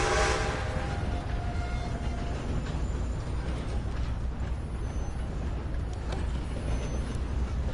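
A train in the Western game Red Dead Redemption 2 rumbles past in a steady, loud roar of wheels and engine noise, continuous throughout, with a brief tonal squeal at the start.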